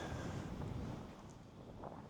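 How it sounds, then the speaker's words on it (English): Wind blowing outdoors on a cold spring day, a faint, steady rushing buffet across the microphone with no other sounds standing out. "Ooh, it's windy."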